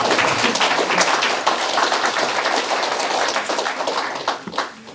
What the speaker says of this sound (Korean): 괜찮으면 박수를 주시겠습니다